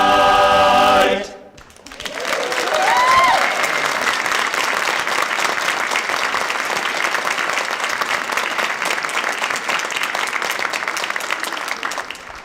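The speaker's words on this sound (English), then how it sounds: "we greatly appreciate the applause" A festival audience breaks into loud, sustained applause after music cuts off, a thick roar of clapping that swells quickly and holds steady for over ten seconds.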